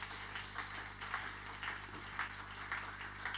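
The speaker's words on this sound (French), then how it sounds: "Nous applaudissons le Seigneur" A congregation claps during a Sunday praise and worship service in church, making steady, faint, rhythmic clapping over a constant low hum, with bursts recurring about every half second.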